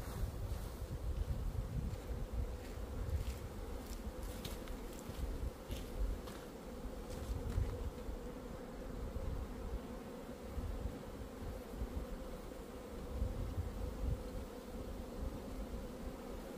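Honeybees buzzing around an opened beehive during a hive inspection, a dense continuous drone of many insects close by with light wind noise, no talking.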